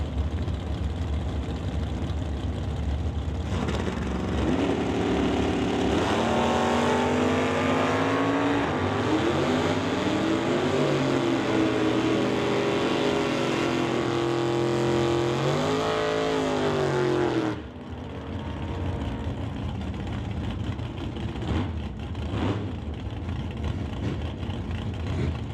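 Two drag-racing cars, a Chevrolet Bel Air and an 83 Monte Carlo, roar loudly off the line together at a drag strip, engines climbing steadily in pitch for several seconds before cutting off, leaving a lower rumble and crowd noise.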